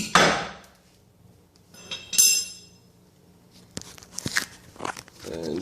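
Hammer blows knock leaf spring blocks and U-bolts loose on a 2013 Toyota Tacoma during an Old Man Emu Dakar leaf install; several sharp, irregular metallic knocks ring out close up, separated by quiet gaps.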